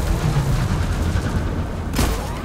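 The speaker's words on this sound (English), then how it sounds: "Sentry gun! Go get him, boy!" Sentry gun firing in the Deep Rock Galactic video game, a dense continuous rattle of rapid shots with a sharper burst near the end, loud and close with no talk.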